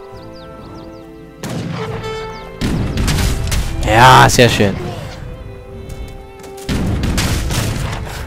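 Cannon fire from three cannons in Age of Empires 3, deep booming blasts and crashes in bursts with battle noise, while someone talks over the action.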